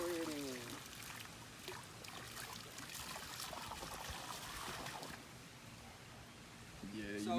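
Dissolved pool chemicals tipped from a bucket into pool water, a steady close splashing pour lasting several seconds before tapering off, with faint voice tones at the edges.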